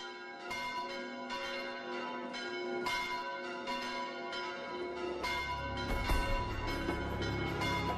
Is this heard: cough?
no